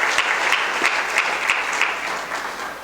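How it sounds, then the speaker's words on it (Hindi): A crowd claps loudly and continuously to honour performers at a Bhagavat Katha during a Barsi festival at Bada Ramdwara, Chandpol, with individual sharp claps standing out before the clapping eases slightly toward the end. "एक बार जोरदार ताली बजा करके उनका सम्मान करें"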